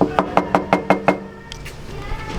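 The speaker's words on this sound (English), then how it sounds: "Knock, knock." Six sharp, evenly spaced knocks on a hard surface, close and loud, followed by quieter rustling and handling noises; no talking.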